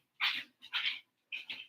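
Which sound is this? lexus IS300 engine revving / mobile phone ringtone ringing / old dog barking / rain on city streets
old dog barking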